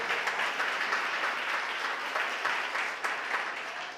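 Continuous applause from a church congregation, dense and steady throughout with no break.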